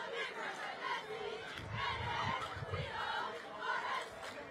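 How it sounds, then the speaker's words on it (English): High school football crowd at a Friday night game between Quincy Notre Dame and Springfield High, a rolling murmur of chatter and shouts heard from a distance at moderate volume. "Springfield High with a good crowd as always."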